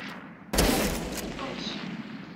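A single sharp gunshot bursts out in a Valorant match, loud and close, trailing into a sustained echoing wash of game ambience.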